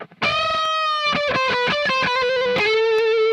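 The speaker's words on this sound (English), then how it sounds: "So that delay is probably just going to give us a nice little echo." An electric guitar through the Bias FX 2 Pro amp simulator, with a delay effect and Celestion V30 cabinet, plays a sustained distorted note and then quick repeated picked notes, each trailed by echoes, loud and alone.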